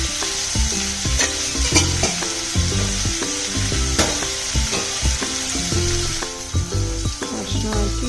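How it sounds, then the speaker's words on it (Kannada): Chickpeas frying in oil in a pan give a steady close sizzle with repeated stirring scrapes, while tuneful background music plays throughout. "ಕಡಲೆ ಹಾಕ್ತಾಯಿದ್ದೀನಿ."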